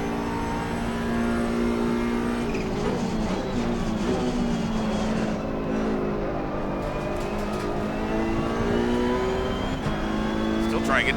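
A Ferrari Challenge Evo race car driven in Assetto Corsa Competizione at Monza, its engine roaring steadily with a high, shifting tone as it rises and falls through the gears, with a voice talking at times.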